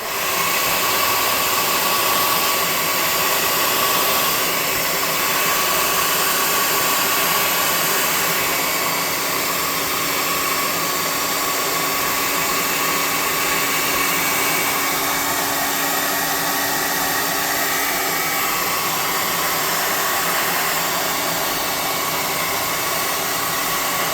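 Hot air blower running steadily on a painted tabletop miniature dragon, a constant loud whooshing roar with no break, heard up close and alone.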